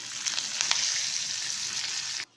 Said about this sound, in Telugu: తర్వాత అదే నూనెలో ఇదిగో తాలింపు దినుసులు అన్నీ చూస్తున్నారు కదా, ఇవైతే వేసేసుకోండి చక్కగా.